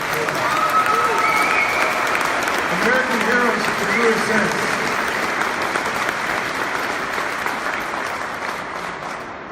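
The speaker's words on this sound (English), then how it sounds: "A round of applause for our legislators." Sustained applause from a large rally crowd honoring legislators, dense and steady throughout, tapering slightly at the end, with a voice speaking over the clapping.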